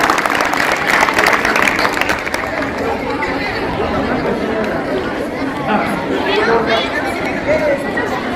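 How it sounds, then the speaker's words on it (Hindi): An audience at a Republic Day program bursts into close, lively clapping for about two seconds, then fades into crowd chatter and voices talking. "हुसैन भाई के लिए जोरदार तालियां आ जाएंगे"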